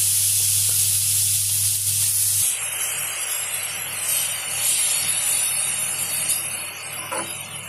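Grated carrots fry in a pan for carrot halwa, giving off a loud, steady sizzling hiss that is bright at first, then eases into a softer crackle as the cooking goes on.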